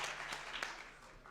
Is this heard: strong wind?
no